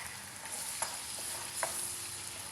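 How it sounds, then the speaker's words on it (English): Garlic sizzles in a pan as a splash of wine goes in, a steady close hiss of frying with a couple of sharp spatula scrapes, no talking. "what I'm going to do now is add some wine, probably a couple of tablespoons."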